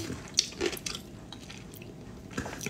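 Crunchy food being bitten and chewed close up during a casual live stream, with a few short crisp crunches and squishy bites scattered over a quiet background.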